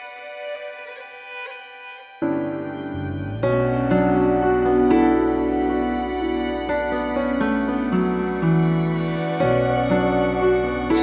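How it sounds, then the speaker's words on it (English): A woven, textured violin with drone-like phrases and swells plays over a calm piano, guitar and bass backing, starting sparse and then filling out into a sustained, layered passage. "With woven violin, it sounds like this."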